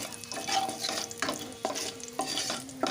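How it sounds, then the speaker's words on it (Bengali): A spoon scrapes and stirs in a pan in several strokes while whole cumin seeds sizzle quietly in hot oil over a low-to-medium gas flame, close up, no talking. "এক চামচ মতন ফোড়নটা দিয়ে একটু নাড়াচাড়া করে ফোড়নটা আমি ভেজে নেবো"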